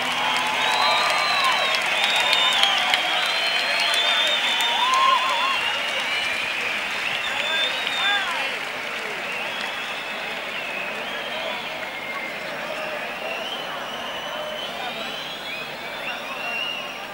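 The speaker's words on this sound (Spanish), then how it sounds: "Un gran aplauso" Applause from a concert crowd for a singer, dense clapping with scattered cheers and whoops that swell early and then gradually thin out, with voices audible through it.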